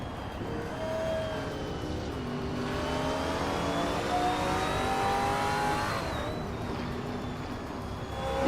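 A field of race cars, including a 2023 Opel Astra on pole, pulls away at the start of a race, several engines roaring and climbing through revs together in a loud, sustained, layered drone with rising whines, no voices.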